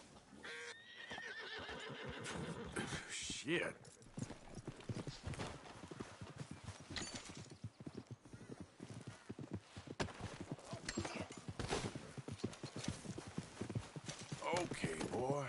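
Horse in Red Dead Redemption 2 neighs and its hooves clip-clop at a walk, fairly close, through most of the scene while someone speaks over it.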